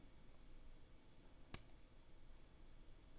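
A single faint, sharp click from a disc-detainer bike lock as one of its discs is picked, standing alone against a quiet background hiss.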